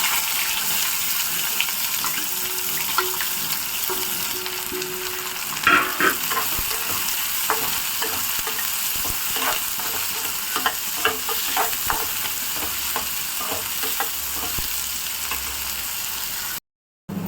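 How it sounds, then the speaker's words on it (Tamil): Chopped onions hiss and crackle in hot oil with popped mustard seeds and fenugreek, a ladle stirring with scattered scrapes and knocks close by; a brief dropout near the end. "இப்போ நம்ம 2 பெரிய வெங்காயம் கட் பண்ணி வச்சுருக்கேன், போட்டுக்கலாம்."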